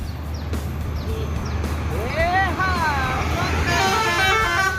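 A Gumaran Jaya bus running from Bukittinggi, West Sumatra, toward Jakarta sounds its musical horn in a rising, wavering string of tooting notes over a low engine drone, while people talk and shout nearby.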